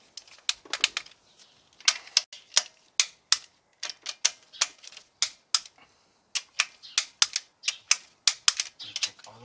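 Rapid, sharp mechanical clicks from a torque wrench on an H22 engine valve cover, sounding in quick irregular bursts of close, crisp ticks separated by brief pauses.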